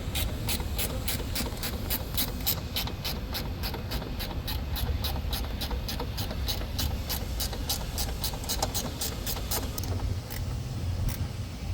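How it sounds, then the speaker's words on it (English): A ratcheting wrench on a 13mm bolt of a Lincoln Corsair or Ford Escape front suspension strut, clicking in a quick, even series of sharp ticks for about ten seconds, close up and fairly quiet with no talking. "Ratcheting wrench fits good here. It's a 13mm."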